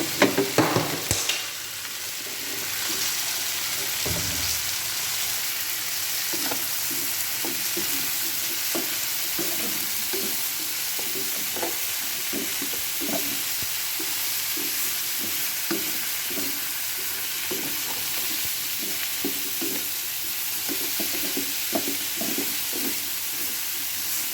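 Zucchini sizzles and spatters steadily in a hot pan with salted dried fish, a continuous frying hiss punctuated by small pops and occasional stirring scrapes, close and fairly loud throughout with no talking.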